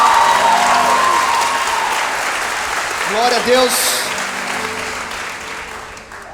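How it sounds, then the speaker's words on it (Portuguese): An audience at a church conference claps and cheers together, loud and close, with a voice calling out over the applause that gradually thins toward the end. "dá uma salva de palmas a Jesus"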